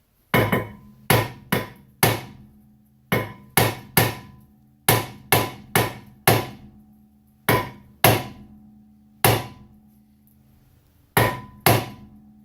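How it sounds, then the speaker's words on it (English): Heavy hammer blows strike a stuck rear brake rotor on a 2009 Mazda 6. The loud, sharp metallic strikes come alone in irregular bursts of two or three, with short ringing decays and brief pauses between groups. "Get a hammer."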